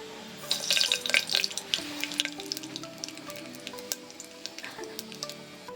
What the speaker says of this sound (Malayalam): എണ്ണ ചൂടായേ, നമുക്ക് കടുകിടാമേ.